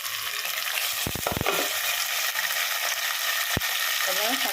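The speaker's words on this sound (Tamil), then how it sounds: "அப்புறம் தக்காளியை நல்லா வதங்கிட்டோம்" Tomatoes sautéing in a hot pan for a stingray fish curry, a steady broad sizzle with a few sharp clinks of a spoon against the pan near the start and middle.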